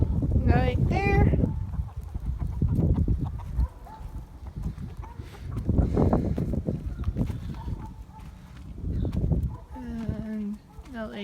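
Farm chickens cluck and squawk in repeated bursts close by, with louder calls rising and falling throughout and a person talking in between.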